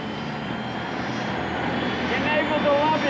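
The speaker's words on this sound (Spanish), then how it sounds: "Suena como un motor a reacción, exactamente igual a lo que oímos en un aeropuerto." A Y2K turbine-powered motorcycle gives a steady, rising jet-engine roar and whine, continuous and fairly close, with a voice talking over it.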